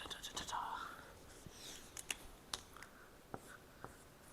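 A pen writes the Japanese word Kanten, making faint, quiet scratches and a few soft taps spread over several seconds, with some soft breathy murmuring near the start.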